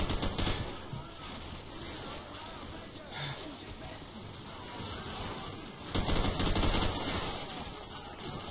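Rapid gunfire bursts in the Call of Duty Modern Warfare video game, crackling volleys that swell near the end, mixed under someone talking.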